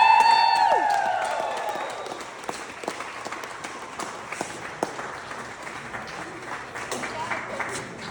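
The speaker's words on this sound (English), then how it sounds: "can I get one more big round of applause for all of our speeches?" Wedding guests applaud and cheer after the speeches, a dense crowd of clapping that fades gradually over several seconds, with scattered whoops and some chatter mixed in.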